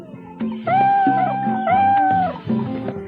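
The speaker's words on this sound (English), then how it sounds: "the pirates in this game really seem to like cats" Cats meow loudly and close by in the pirate city-building game Tropico 2, with several drawn-out, rising and falling calls that overlap one after another against quiet background sound.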